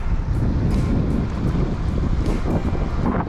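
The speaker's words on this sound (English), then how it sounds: "That wind is pretty brutal though." Strong, brutal wind gusting steadily outdoors while fly fishing for native brook trout in the Adirondacks, a loud continuous roar of buffeting against the microphone with no voices.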